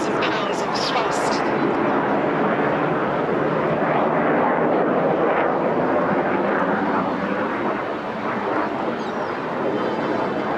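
A de Havilland Vampire and a BAC Strikemaster pair make crossover passes at the Clacton Airshow, a loud, sustained jet roar that swells and fades as they pass, with an announcer talking throughout.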